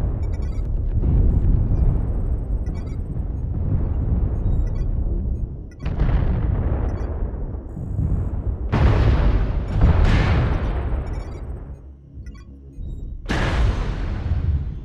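Repeated heavy artillery explosions during a video game match, several loud booming blasts with long rumbling decays, each new impact breaking in sharply over the fading roar of the last.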